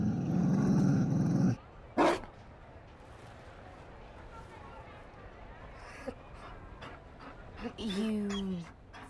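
A Mabari war dog in Dragon Age: Inquisition gives a brief growl and a few short canine noises, with a loud burst at the start and sparse vocal sounds afterward.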